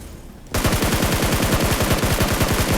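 After a brief quiet moment, rapid automatic gunfire in BGMI bursts in and continues loud and relentless, shots rattling in a fast, even stream.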